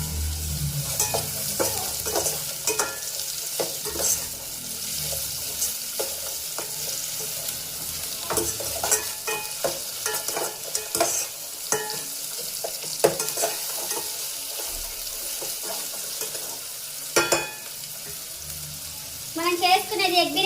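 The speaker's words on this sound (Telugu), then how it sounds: "ఉల్లిపాయలు బాగా వేగాలి," Sliced onions frying in oil for egg biryani give a continuous close sizzle, with repeated scraping and clattering of a stirring spoon against the pan throughout.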